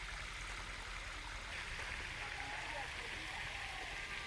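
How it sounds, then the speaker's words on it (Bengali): Water poured onto potato plants in earthed-up rows in a field gives a steady, close rush and splatter, like a stream or heavy rain, running on without a break. "আলু গাছে দাঁড়া টেনে দিয়েছে জল দেয়া হচ্ছে"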